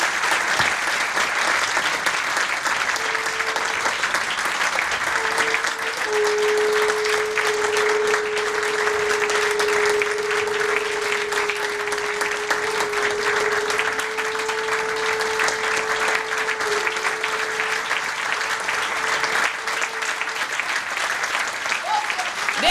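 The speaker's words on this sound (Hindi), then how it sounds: "तालियों की गड़गड़ाहट चलती रहनी चाहिए।" Continuous crowd applause at a ceremonial celebration, thick steady clapping throughout while a sustained tonal hum runs underneath in the middle part.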